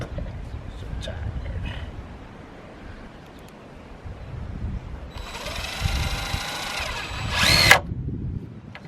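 A DeWalt battery-powered drill whirs in short bursts on a building site where a structure is being framed, with faint background noise and a louder, sustained run near the end.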